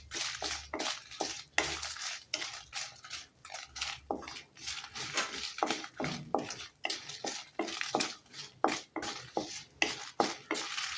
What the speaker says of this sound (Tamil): இதை நல்லா வறுத்து எடுத்துக்கலாம்.